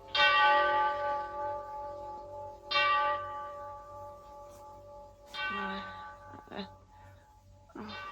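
A clock in a dim, quiet hospital room in an old radio drama strikes eight, with deep resonant bell-like strokes spaced slowly apart. Each stroke rings out and fades into near silence, with faint voice-like sounds near the end.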